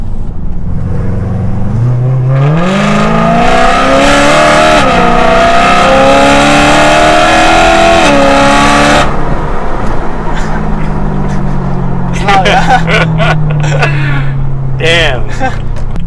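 A BMW M3 Competition E92 accelerating hard, its engine rising in pitch through the revs, dropping at a gear change, then easing back to a steady drone before blipping again, loud and close from inside the cabin.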